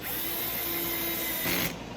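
A cordless drill set to a low clutch setting drives a screw into wood, giving a steady close whir for about two seconds with a brief louder surge near the end.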